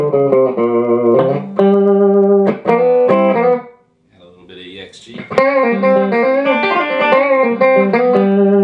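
An electric guitar with EMG DG-20 pickups and the mid boost at maximum plays punchy chords and single notes with a thick, forward midrange tone, pausing briefly before a brighter, sustained phrase rings out.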